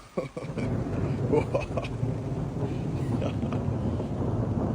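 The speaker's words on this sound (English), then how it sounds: "It's really thundering now." Deep rumbling thunder rolls on steadily, loud and close, with rain and wind noise mixed in.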